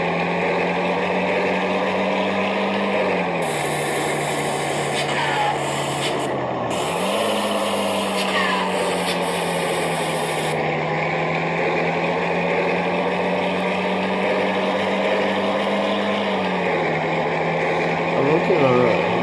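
A truck's engine brake in the video game World Truck gives a steady, low mechanical drone with a slight rising and falling pitch. A brief hiss lasts a few seconds, and someone talks over it.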